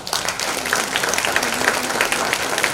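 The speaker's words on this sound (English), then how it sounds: "Give Pace a round of applause" A gala audience at a university alumni event claps steadily and densely for a few seconds, a continuous wash of many hands with no break.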